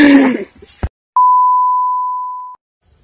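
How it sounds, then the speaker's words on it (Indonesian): A timer goes off in a Sundanese comedy short: after brief talk and a sharp thump, a single loud, steady electronic beep sounds for over a second and then stops abruptly. "Timer."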